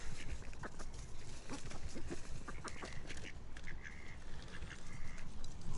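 Ducks quacking at a park, a busy mix of calls over steady outdoor background noise, with repeated quacks and a few higher bird calls spread through the whole stretch.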